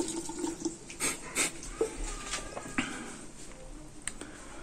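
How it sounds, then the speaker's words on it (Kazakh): Water running from a tap at home after a water heater installation, a light splashing and pattering stream with small clinks and knocks, fairly quiet and close. "Енді қазір былай бұрсақ, ыстық су бар бізде."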